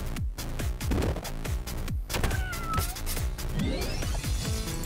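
Cat meows ring out repeatedly in the video game Epic Battle Fantasy 5, several drawn-out mews layered over busy game music and effects.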